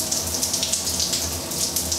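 Water runs from a hand shower in a home shower fitted with a rain shower head, a steady close spray hiss with a gentle pulsing flutter throughout.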